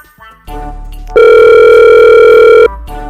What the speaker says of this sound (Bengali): কাল ঘুঘুকে একটা ফোন করে দেখে নেই